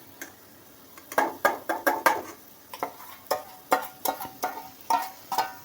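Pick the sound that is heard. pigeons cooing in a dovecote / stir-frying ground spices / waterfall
stir-frying ground spices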